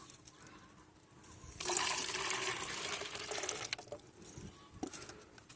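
Beneficial bacteria plant-growth liquid poured into a container, a broad steady splashing pour that swells suddenly, runs for a couple of seconds, then tapers to lighter trickles and a few drips.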